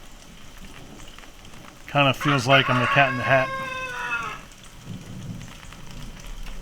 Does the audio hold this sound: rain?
yes